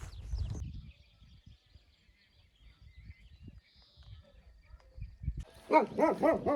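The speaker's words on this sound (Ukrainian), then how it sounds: "Песик." A dog barks in a few sharp bursts near the end, after a stretch of quiet low rumbling and faint background noise, at a cheese dairy in the Carpathians.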